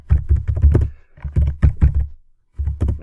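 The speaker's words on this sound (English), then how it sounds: "So I'll go back a step and I'll type in ground floor plan." Close, crisp keystrokes on a computer keyboard come in quick bursts with brief pauses, typing a search into Autodesk Takeoff software. No one speaks.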